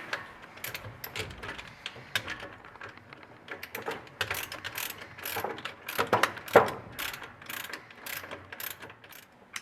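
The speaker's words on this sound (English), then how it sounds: "Josh is going to go ahead and bolt that up." Rapid clicking ratchet strokes in bursts as an alternator spacer and bracket are bolted onto a GM engine, close and crisp with short pauses between runs.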